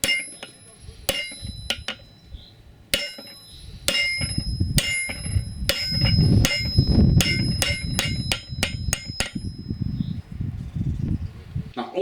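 A hammer strikes metal on an anvil while fitting a coupler, sharp ringing blows in irregular clusters, some in quick runs of several hits, close and loud over a low rumbling background.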